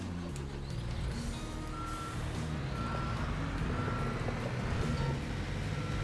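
Truck reversing beeps ring out in a construction simulator game, a regular series of steady electronic tones over a low engine rumble, with no talking.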